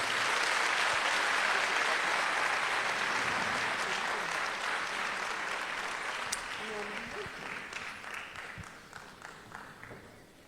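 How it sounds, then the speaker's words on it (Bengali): A seated audience at a stage function gives loud, sustained applause that fills the room and then slowly fades, with a voice speaking faintly beneath the clapping. "একবার আরো জোরে হাততালি হোক এনাদের জন্য।"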